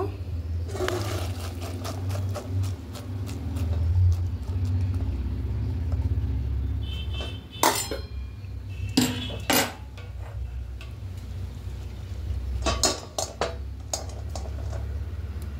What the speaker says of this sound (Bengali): এবার গ্যাসটা অফ করে দেব, দিয়ে এটা একটা ছাঁকনির মধ্যে ছেঁকে নেব।